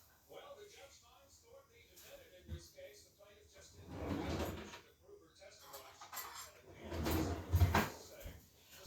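A kitchen drawer slides open and shut with rattling cutlery as a spoon is fetched, wooden rumbles and clinks heard close under a person talking throughout.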